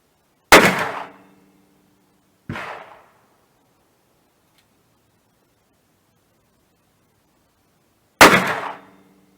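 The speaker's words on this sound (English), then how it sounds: "Three shots, good hits." Three loud, sharp .357 Magnum revolver shots go off at an outdoor target range. Each report cracks close and hard and decays quickly. The first two come a couple of seconds apart, and the last follows after a long silence.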